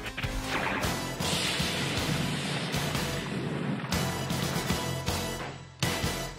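A loud, dense crashing energy blast from the Transformers series as Galvatron destroys Starscream, with sustained roaring impact noise, a sharp cutoff near the middle and a final burst near the end; no voices.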